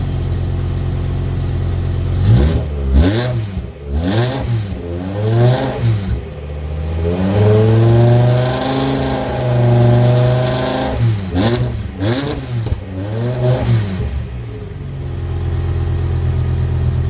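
A 2010 BMW E60 M5 V10 with no cats, a stainless X-pipe, gutted headers and factory mufflers revs hard several times, rising and falling between throttle blips, then holds a long sustained rev before more quick blips, loud and close.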